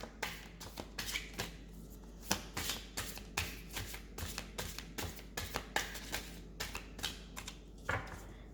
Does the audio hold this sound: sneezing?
no